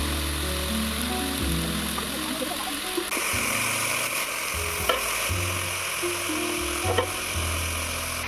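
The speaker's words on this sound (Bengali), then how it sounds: "অল্প একটু নুন দিয়ে ফুলকপিগুলো ভেজে নেব।" Cauliflower florets frying in oil with a little salt, a continuous sizzle and crackle under a low steady hum, with occasional clinks of a utensil stirring the pan; no voices.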